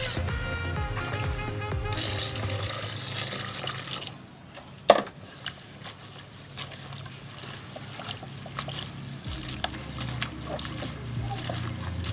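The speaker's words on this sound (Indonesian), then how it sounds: "Kita akan mencuci daun sambiloto sampai debu dan kotorannya hilang." Sambiloto leaves are washed by hand in water, with sloshing and splashing, one sharp louder splash partway through, and scattered trickles afterward, under a background of music or hum.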